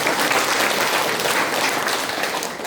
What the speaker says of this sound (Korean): 박수 한번 또 칠까요?